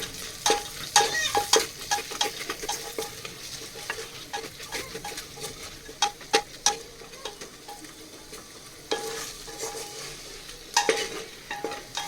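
Spices and turmeric frying in a pan for veg biryani: a soft, steady sizzle with scattered clinks and scrapes of stirring, fairly quiet and without talk.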